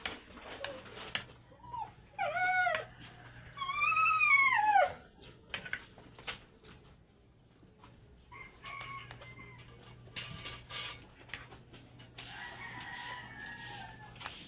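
A dog whines in high, wavering whimpers, with scattered rustling and clattering around it; no talking.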